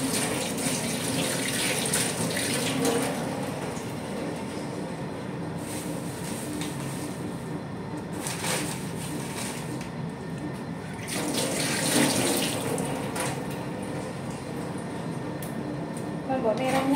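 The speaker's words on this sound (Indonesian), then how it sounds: "kita cuci bawang putih dan oyong" Kitchen tap water running steadily while garlic and luffa gourd are washed by hand in a sink, a continuous splashing wash with louder surges, close and fairly loud throughout.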